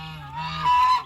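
A goose gives a single loud, nasal honk, close by and alone with no other sounds around it.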